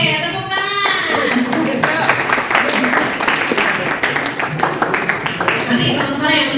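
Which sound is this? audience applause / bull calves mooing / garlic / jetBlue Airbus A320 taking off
audience applause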